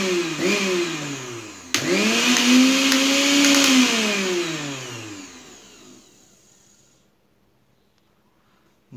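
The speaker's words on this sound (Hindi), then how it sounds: "अब इसे हम लोग चला के देखते हैं कि यह कैसा काम कर रहा है" A mixer grinder with a repaired circuit breaker whirs loudly, briefly dips as it restarts, then runs hard before spinning down and fading to near silence.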